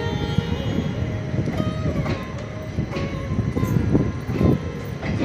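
Inside a 3rd AC coach of the Tapti Ganga Express between Mau and Varanasi, a steady rolling rumble carries rhythmic wheel clatter over rail joints throughout.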